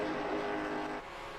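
Engines of pavement late model race cars lapping at Richmond drone steadily from a distance, a sustained, fairly faint roar that eases off toward the end.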